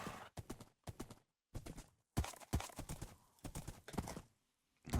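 Horse hooves clip-clop in the Minecraft video game, quick bursts of steady hoofbeats in several groups separated by brief silences, close and clear.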